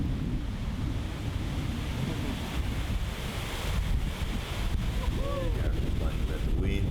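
Steady wind buffets the microphone out on a disc golf course during a tournament round, a continuous low roar filling the whole stretch with slight gusty swells.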